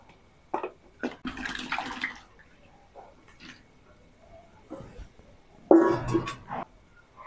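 Pieces of ash gourd, two kilos' worth, drop into a pan holding about two litres of water for morabba, giving a few short wet splashes and plops with a larger splash near the end.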